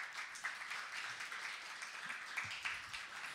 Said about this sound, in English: All right, let's give an applause.